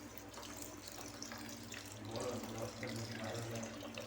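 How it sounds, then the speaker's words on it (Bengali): Water runs in a thin, steady stream into a pan of syrup for bonde sweets, faint and close, over a low kitchen hum. "আরও একটু অল্প করে জল দিয়ে নেব।"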